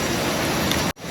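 Steady, dense monsoon rain hisses loudly just outside a forest hut, nearby and continuous, then cuts off abruptly for a moment near the end before resuming.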